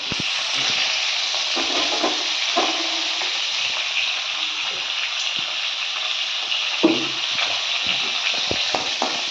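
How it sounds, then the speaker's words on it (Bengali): A fish head fries in a pan with loud, steady sizzling and crackling. Occasional stirring knocks and scrapes break through the sizzle. "এবার মাথাটা ভেজে নিই"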